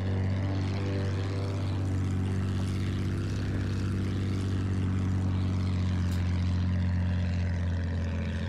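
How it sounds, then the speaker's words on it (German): A propeller attack plane drones overhead in the video game Battlefield 1, a loud, steady engine hum holding evenly from start to finish with no voices. "Ich sehe ein Flugzeug!"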